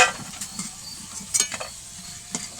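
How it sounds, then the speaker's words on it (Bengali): Pointed gourd (potol) frying lightly in oil in a home kitchen, a soft steady sizzle broken by a few sharp clinks and scrapes of stirring, close up with no one talking. "পটলটাও হালকা করে ভেজে নেব।"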